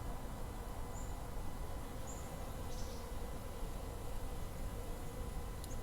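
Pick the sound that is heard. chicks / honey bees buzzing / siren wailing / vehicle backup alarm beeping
honey bees buzzing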